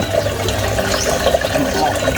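Water runs steadily through a flow-through water system in a tank holding fish eggs, a continuous close wash of flowing water that persists with low murmur underneath.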